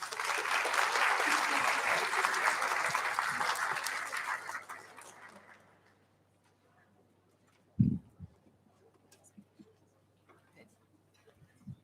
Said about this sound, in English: So please give a big round of applause to Mr.